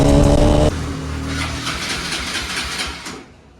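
A motorbike engine running with its rear silencer removed, a loud raw continuous roar that drops in pitch after a moment and fades out toward the end.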